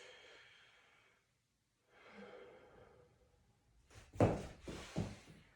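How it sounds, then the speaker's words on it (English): A patient breathes during lung auscultation, two soft drawn breaths followed by louder, closer breath noises and a thump, no speech. "Breathe in for me, please."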